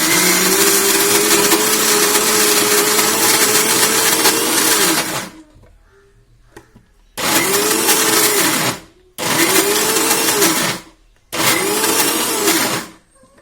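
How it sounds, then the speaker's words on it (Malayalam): A mixer grinder grinding batter whirs loudly for about five seconds, pauses, then runs in three shorter bursts with brief silences between. "നിർത്താതെ കറക്കിയിട്ട് മിക്സി ചൂടാവരുത് കേട്ടോ"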